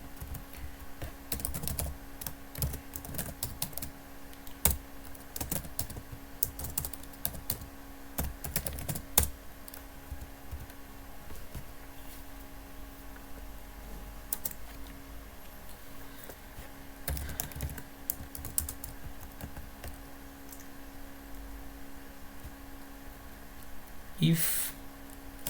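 Code being typed on a computer keyboard, a steady run of soft, quick key clicks in irregular bursts across the whole stretch, fairly close and quiet, with a few louder taps near the end.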